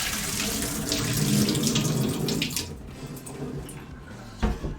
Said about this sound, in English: I'm going to rinse these a couple of times with water until we start getting clear water coming out.